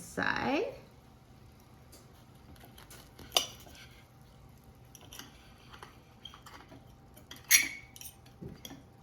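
Cutlery scrapes and clinks against a plate while a knife slices through a baked bratwurst sausage, with a few sharp taps in a quiet room.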